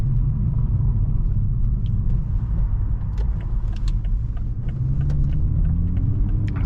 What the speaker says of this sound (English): So yeah, I'm driving this now.